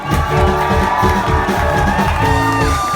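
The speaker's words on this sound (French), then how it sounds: "faites-vous du bruit, applaudissez-vous" A live audience at a small tavern concert in Geneva cheers, whoops and shouts in a loud continuous roar, with the crowd noise staying dense and steady throughout.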